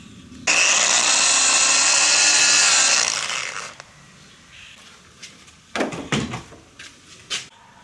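A power drill pre-drills screw holes for door hinges in wood, running in one loud continuous whine for about three seconds, then stopping. A few scattered knocks and handling clunks follow.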